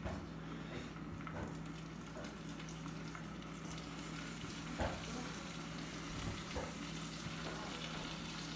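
Fish fries in seasoned butter in a pan, giving a faint, steady sizzle with occasional soft pops and crackles, close by and quiet, with no voices.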